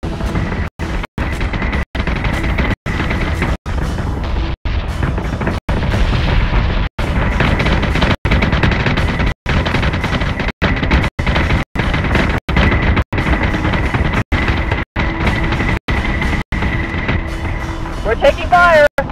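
Incoming fire batters a ship in a space battle from Battlestar Galactica Deadlock: loud, heavy booms and blasts land in rapid, irregular succession over a constant roaring rumble for the whole stretch.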